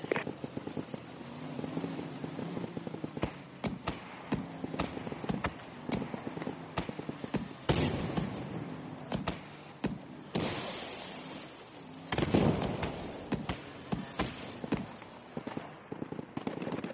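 Mortar explosions in a desert combat video game, a run of sharp booming blasts and cracks at uneven intervals over a low rumble, some close and loud, others more distant.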